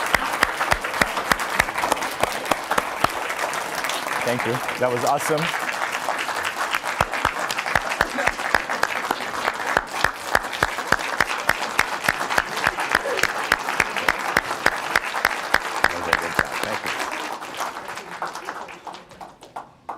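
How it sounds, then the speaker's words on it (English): Audience applause at a computing and data science school dedication event, a dense, steady wash of clapping that builds and then fades near the end, with someone speaking briefly over it. "let's give him a big round of applause"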